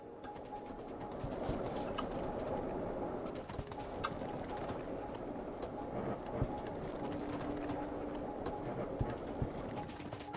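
A train in the video game Factorio, loaded with oil, rolls along in a steady low rumble that runs continuously with mild fluctuations, alone and with no talking.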